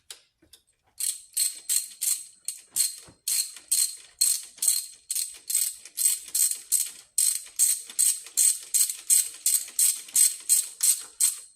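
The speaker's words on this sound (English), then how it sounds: "I'm tightening it up right now." A ratchet tightening a spark plug, clicking in quick rapid bursts with short pauses between strokes, crisp, close and steady with no talk.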